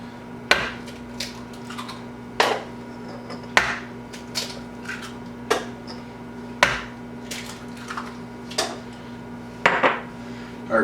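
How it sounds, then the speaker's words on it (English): Four eggs being cracked into a bowl of flour: a run of sharp, separate taps and knocks against the bowl at close range, spaced about a second apart, with no talking. "I have 4 eggs. Just gonna crack right into there."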